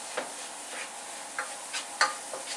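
Egusi melon seeds frying in a pan while being turned, with a faint dry sizzle and a few light, scattered scraping strokes, quiet and close.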